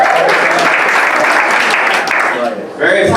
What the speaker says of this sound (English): Give a round of applause for the comics you saw tonight.